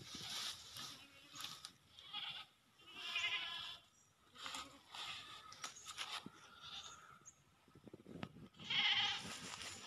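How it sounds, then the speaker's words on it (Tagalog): Several goats on a farm bleat in a series of loud, wavering calls spaced a second or two apart, some near and some a bit farther off. "There's goat there, over there."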